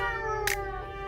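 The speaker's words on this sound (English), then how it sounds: "You meow." A cat gives a drawn-out, steady, close meow at moderate volume, with a brief rustling burst partway through.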